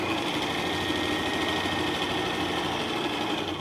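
A sewing machine runs continuously while stitching down a skirt hem, giving a steady, fast mechanical whir and buzz at close range with no voices.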